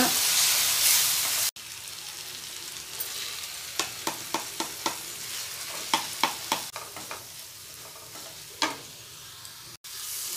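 Onion and tomato frying in a pan while a spoon stirs them, making a steady sizzle broken by a series of sharp, close scraping clicks against the pan.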